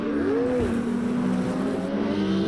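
Race car in Project Cars 2 losing grip at the rear and spinning out, a sustained engine drone with a rising and falling whine.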